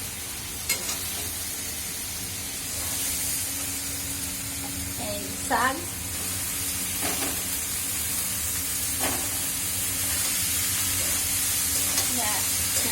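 Vegetables and leafy greens frying in a pan, a steady broadband sizzle with occasional stirring scrapes, while someone talks over it at intervals.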